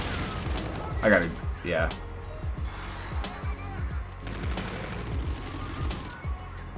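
KARMA-45 gunfire in a video game comes as a steady run of rapid shots, with someone talking briefly over the shooting.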